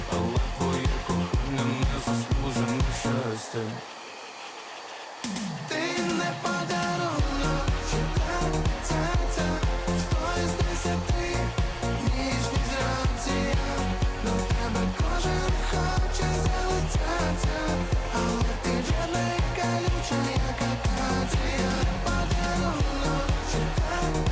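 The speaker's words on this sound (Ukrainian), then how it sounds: "зараз буде трохи гудіти фен" A hair dryer roars loudly and continuously while drying hair, cutting out for a moment near the start before starting up again and running steadily.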